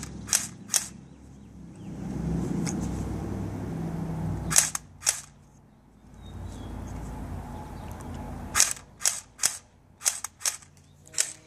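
An airsoft gun fires in semi-automatic mode, sharp single snapping shots spaced apart in irregular clusters, close and crisp, with a stretch of low rumbling noise between volleys.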